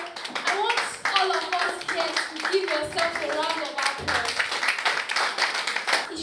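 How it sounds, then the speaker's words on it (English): An audience at a summit session claps together, a lively mix of many hands close and far, with voices and chatter mingled throughout. "So I want all of us here to give yourself a round of applause."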